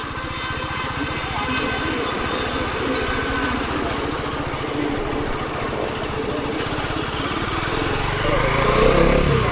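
A Bajaj Pulsar NS400Z motorcycle out riding a test round: a steady, buzzing engine thrum close by that builds louder toward the end as it speeds up, with wind noise and a voice speaking over it.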